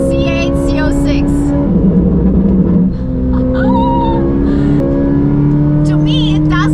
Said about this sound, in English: It's the Corvette C8 Z06.